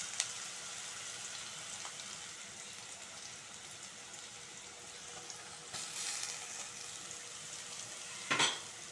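Raw mango pieces and curry leaves sauté in oil in a pan, giving a soft continuous sizzle with occasional scrapes and clinks of a spoon against the pan, quiet and close.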